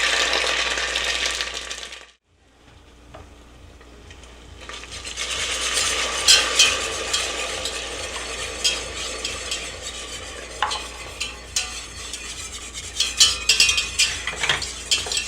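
Bourbon goes into a pot of baked beans, which sizzles and is stirred. A low steady hum stops abruptly, then frying hiss builds under repeated scraping and clinking of a utensil against the pot, with no voices.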